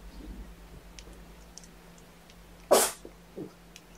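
A single sharp sneeze bursts out, loud and close, in an otherwise quiet room with faint soft ticks and rustles around it.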